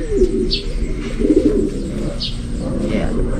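Racing pigeons coo in a steady low murmur, with a few brighter chirps rising over the rolling coos, close by and fairly loud.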